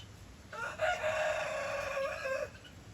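A rooster at a farm animal sanctuary crows once, loud and close, a drawn-out call lasting about two seconds against quiet background.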